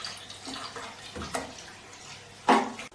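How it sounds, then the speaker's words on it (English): Dirty water pours out of a Bissell ProHeat carpet cleaner tank past a pulled-back rubber stopper, a faint, irregular trickle and splash with a louder gush toward the end. "To empty this tank there's a rubber stopper there that pulls back and you can just pour it out."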